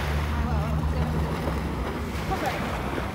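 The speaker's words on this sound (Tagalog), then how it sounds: "Dito kami sa gilid ng dagat." Sea waves wash steadily against the seaside at Port Dickson at night, with a continuous low surf roar and heavy wind buffeting the microphone throughout.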